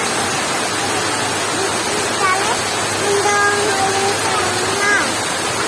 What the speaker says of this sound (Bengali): হ্যাঁ, বৃষ্টির পানিতে বন্যা হয়ে গেছে পুরো।